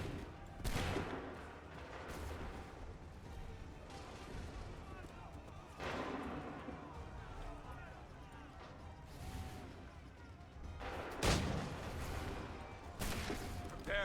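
Musket volleys ring out in Assassin's Creed III, several loud bursts of massed gunfire spread across the scene, with shouted orders from soldiers between and over the shots.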